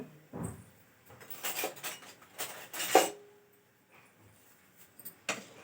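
A spoon stirs ingredients in a pan, giving scattered metallic clinks and light scrapes with quiet gaps between strokes, close by with no talking.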